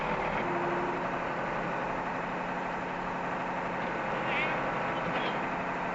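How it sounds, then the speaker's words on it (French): Unimog lift-platform truck reversing up to a loading platform, its engine running in a steady low idle rumble at moderate distance with no speech. "Le véhicule recule jusqu'au plan de charge."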